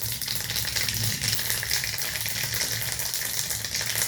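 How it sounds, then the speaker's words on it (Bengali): Mustard seeds tempering in hot oil in a pan, a dense continuous sizzle and crackle heard up close for a few seconds, with no voices. "এবার আমি এর মধ্যে দিচ্ছি অল্প সর্ষে ফোড়ন"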